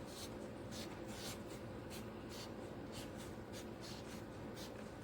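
A pen scratches a heading onto paper in quick repeated strokes, a soft, close, continuous scratching with no talk.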